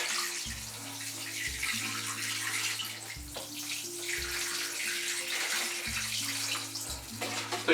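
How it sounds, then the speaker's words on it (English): Water poured from a container into a bucket of wet sand, a continuous splashing gush that runs for several seconds, close by and steady, with no one talking. "I'll pour some water in this now to make sure the"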